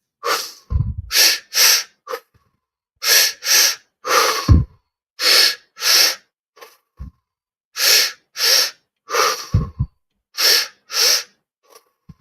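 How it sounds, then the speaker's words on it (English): Deep, steady breathing during a mindfulness exercise, repeated loud inhales and exhales in a slow regular rhythm, close to the microphone with no talking. "So just keep breathing."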